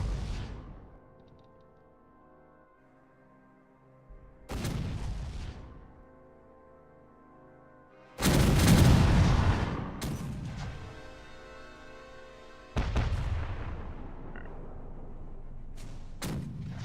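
Ship cannons fire a volley at a fort in Caribbean Legend, four heavy booming shots spaced a few seconds apart, each a loud blast with a long rumbling tail.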